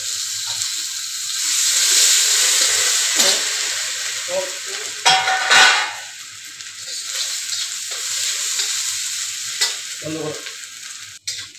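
Turmeric, cashews, raisins and ginger paste fry in a pan for basanti pulao with a loud, continuous sizzle that swells as the ingredients go in. Intermittent scraping stirs sound up close, and no one speaks.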